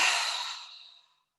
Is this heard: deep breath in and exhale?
yes